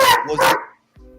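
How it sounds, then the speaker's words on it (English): A dog lets out two loud, sharp barks close by in a room during a late-night boxing talk show, followed by a short pause and a faint low sound. "The dog didn't like that shit."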